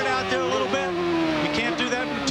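A 1996 CART IndyCar race car at the Molson Indy Vancouver street circuit, its engine a loud sustained high-pitched whine with a slowly shifting pitch, heard under a commentator's voice.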